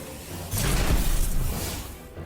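A deep Destiny 2 video game grenade explosion swells up with a booming, echoing rumble and a rushing, debris-like tail that fades over a second or so.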